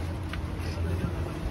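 The outboard motor of a dugout canoe cruising on the Napo river drones steadily, a low continuous rumble with wind and water noise mixed in.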